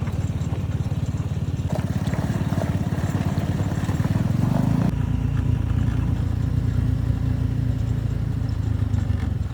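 Motorcycle ridden along a forest trail, a loud close engine revving hard with rattling clatter, then dropping to a lower steady throttle midway, continuous throughout.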